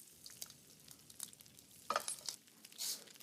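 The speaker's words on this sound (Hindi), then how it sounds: "अब गरम तेल में जीरा" Cumin seeds hit hot rice bran oil in a pan, giving a soft crackling sizzle with small pops and faint stirring scrapes.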